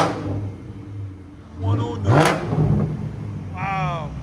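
A 2008 BMW 550i with a 4.8L V8 and X-pipe straight exhaust revs, rising into a loud surge over a steady low rumble, with people talking nearby.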